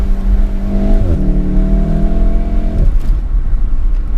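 A tuned VW Golf R with roughly 70 to 80 extra horsepower accelerates hard, its engine note climbing, dropping at a gear change, then rising again before cutting off, loud and close with no talk.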